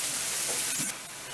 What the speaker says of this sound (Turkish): Şöyle çok ufak doğradığımız soğanları bir öldürelim.